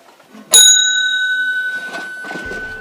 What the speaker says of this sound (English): you could open the cash drawer without ringing this bell back here